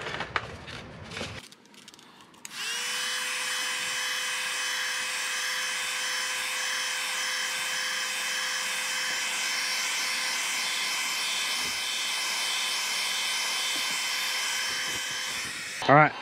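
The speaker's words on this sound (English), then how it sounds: "So Mike, you want to do the honors of heat shrinking it?" A heat gun blows with a steady high whine and airy roar as it shrinks heat shrink tubing over truck light bar wires, starting after a brief clatter and running continuously at close range.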